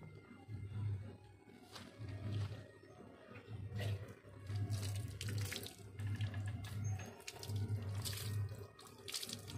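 Water runs steadily from a tap during a cat's bath, a continuous splashing flow with bursts of louder spray, fairly quiet overall with faint low rumbling underneath.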